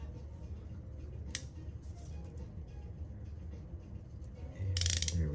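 A hand crimping tool presses a terminal pin for a GM/Holley cam and crank sensor connector, giving small ratcheting clicks followed by a louder, firmer crunch of the final crimp near the end, close and quiet.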